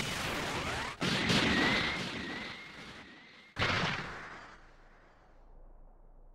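Special Beam Cannon energy blast from the Dragon Ball Sparking Zero fighting game, two loud booming explosive bursts with a whining streak between, the second fading into a long rumbling tail.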